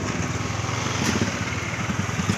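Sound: boat motor engine

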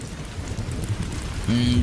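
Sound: heavy rain

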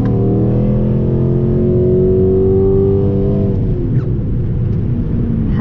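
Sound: Chrysler 300C car engine while driving

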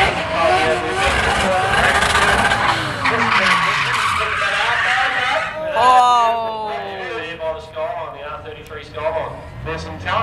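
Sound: race cars drifting

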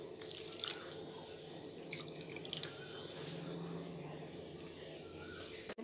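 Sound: washing seeramenu fish in water

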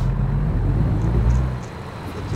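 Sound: truck engine in a video game

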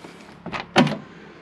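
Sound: car door of a 1957 Chevy 210 sedan

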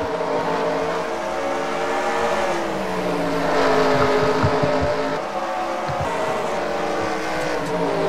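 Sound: race cars lapping Bristol in the NASCAR Racing 2003 video game

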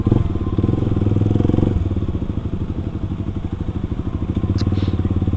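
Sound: Kawasaki KLX 250 supermoto motorcycle riding

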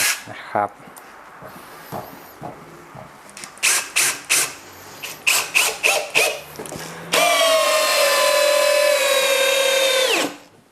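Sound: cordless drill driver drilling at max mode

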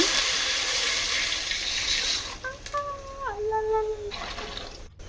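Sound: water being poured into a pot

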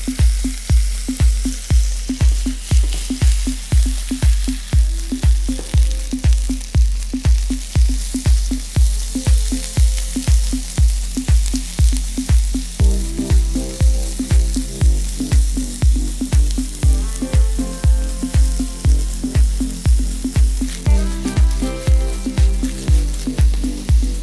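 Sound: veal and eggplant frying together in a pan

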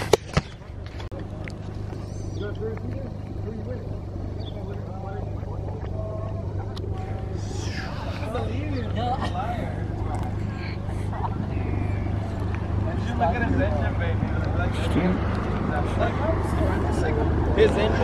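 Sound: Volkswagen MK7 Golf R driving, GoPro on front

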